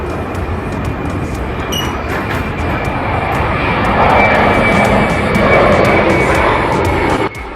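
A low-flying airplane passes close to an airport hotel, its loud, continuous engine roar swelling and holding for several seconds.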